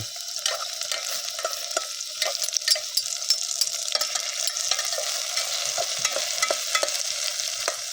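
Mushrooms fry loudly and steadily in hot oil, with a dense, continuous sizzle and occasional crackles and scrapes of stirring throughout, and no talk.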